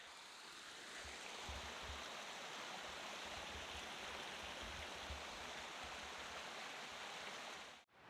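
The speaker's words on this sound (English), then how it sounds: "I've passed so many streams so far." A mountain stream on a hiking loop in Kananaskis rushes steadily, a broad continuous hiss of flowing water with low burbling underneath, close and constant, ending in a brief handling bump.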